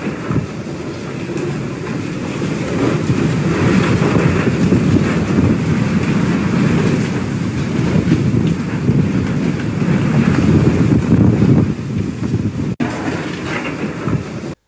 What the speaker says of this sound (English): a massive storm hit Taipei, as it usually does